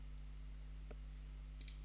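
A computer mouse gives a faint, quick click, then a quick double tap follows shortly after against a quiet background hum.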